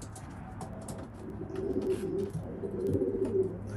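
Racing pigeon cocks coo in a loft, with soft repeated cooing phrases swelling near and low, and a brief spoken word over them.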